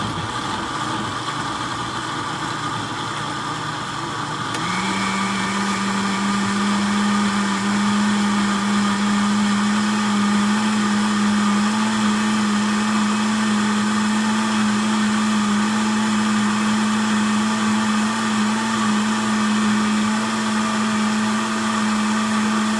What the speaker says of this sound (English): Put this in the blender.